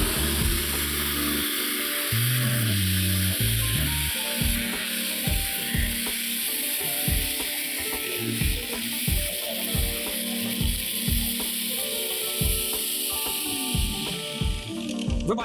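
Procraft PSL2500 or PSL2800 electric garden shredder starting up and running, a loud steady whirring motor drone with a dense hiss over it and repeated knocking and crunching as it runs, no talking.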